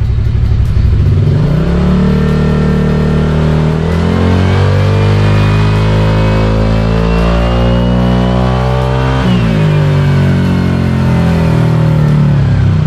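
A Honda motorcycle engine, idling low and running rich before a remap, revs hard: a loud, sustained mechanical roar climbs and holds, then rises again near the end, with no talk over it.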